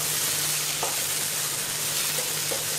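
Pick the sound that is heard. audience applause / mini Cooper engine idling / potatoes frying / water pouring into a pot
potatoes frying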